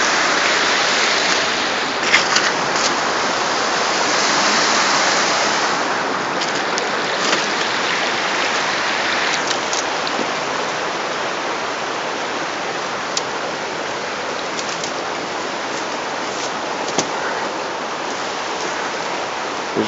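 A river flows steadily, a loud, constant broadband rush of water running past nearby rocks for the whole stretch.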